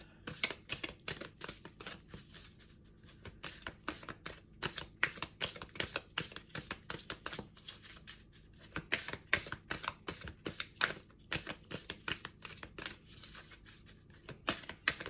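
Tarot cards shuffled by hand in a quiet room, a fast run of crisp riffling flutters and soft slaps that comes in bursts with brief pauses, close and moderately loud, no talking.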